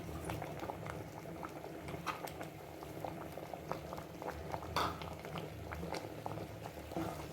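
A thick vegetable salna curry bubbles and pops steadily in a pot, a continuous close-up simmer of small blips and gurgles.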